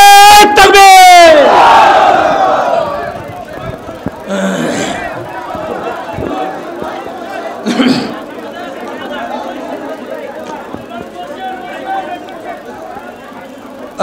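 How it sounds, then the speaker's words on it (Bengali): A large religious rally crowd in Habiganj chanting takbir slogans, a loud massed shout at the start that fades into ongoing crowd chatter and scattered calls, fairly close and continuous. "আল্লাহু আকবার, নারে তাকবীর, শাইখে চরমনাই আগমন"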